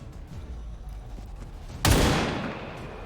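Gunfire in a co-op video game, a sudden loud blast bursting in partway through and then trailing off in a long rumbling decay, over a low background rumble.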